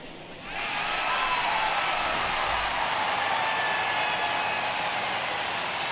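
A home baseball crowd in MLB The Show 21 roars into a broad, steady cheer that swells after a quiet start and holds loud and continuous.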